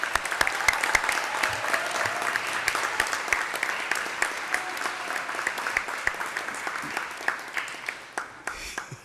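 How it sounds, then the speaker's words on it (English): Audience at a board of education meeting gives a big round of applause, with loud, dense clapping throughout that thins into a few scattered claps near the end. "if we could give a big round of applause to Mr. Jeff Du Bois."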